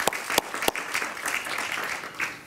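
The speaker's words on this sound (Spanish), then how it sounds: "Un aplauso para él, por favor" A television talk-show studio audience applauds, a dense, steady wash of clapping with a few sharp close claps at the start, continuing throughout.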